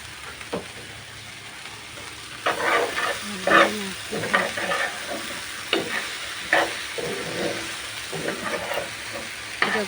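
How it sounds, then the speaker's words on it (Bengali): Spoon scraping and stirring food in a frying pan after turmeric powder goes in, with irregular clatters and a soft sizzle under a steady background hum, close and moderately loud. "এখন আমি ভালোভাবে এগুলো নাড়াচাড়া করবো।"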